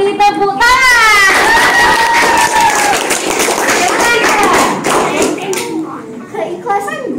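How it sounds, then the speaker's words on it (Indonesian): Applause at a teachers' school coaching session: a room of people clap briefly under a speaker's voice and other talking. "Kita beri tepuk tangan."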